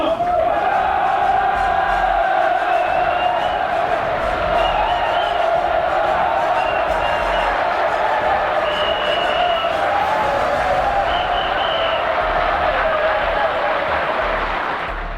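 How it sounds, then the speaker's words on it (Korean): Crowd of delegates cheering and applauding at the launch of a public servants' labor union, a sustained, loud roar of voices and clapping filling the whole stretch without pause. "여러 동지 여러분들의 힘찬 박수와 함성으로 시작하겠습니다"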